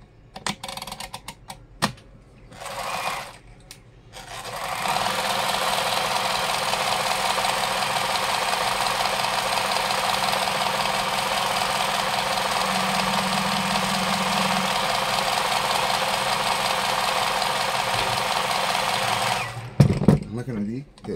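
A new sewing machine runs in a long, steady, loud whirring stretch of about fifteen seconds, with brief clicks and handling noise before it starts and after it stops.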